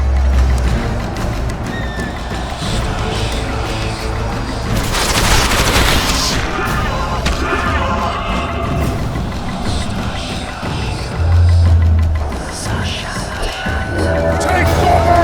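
Gunfire in the video game The Witcher 2 crackles in scattered bursts with heavy booms, mixed with horse whinnies and battle noise; voices call out over the chaotic combat.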